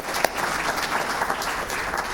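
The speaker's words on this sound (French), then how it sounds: "Applaudissements pour monsieur Ibrahima Théo Lam" Audience applause welcoming a guest at a business talk show in Ouagadougou, a steady wash of clapping from a crowd, moderately loud and continuous throughout.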